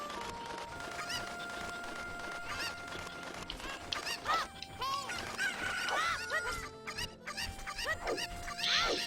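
Cuccos, the chickens of a Zelda video game, squawk and cluck in repeated short bursts over steady background game music.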